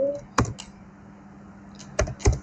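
A few sharp keystrokes on a computer keyboard, clicking close by in two short clusters separated by a quiet pause.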